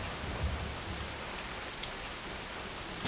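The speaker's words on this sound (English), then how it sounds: "only the sound of the falling rain and constant thunderclaps could be heard echoing through the darkness" Steady falling rain hisses as a constant, even wash in the Ys: Memories of Celceta video game on a stormy night, quiet and unbroken with no speech.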